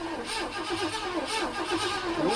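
A 1967 Ford Mustang engine that has not run in months cranks on its first start attempt, with the choke on and little fuel in the float bowl. The starter churns in a quiet, steady, rhythmic pulse without catching.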